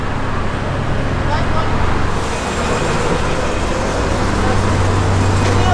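Electric buses passing on a busy Belgrade street, a steady loud traffic roar with a low motor hum and a faint hiss, continuous throughout with no voice over it.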